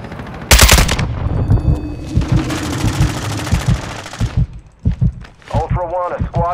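Automatic gunfire in a Call of Duty DMZ match, with loud bursts of machine-gun fire through the first few seconds and scattered single shots after. Game voice lines and speech-like chatter sound over and between the shots.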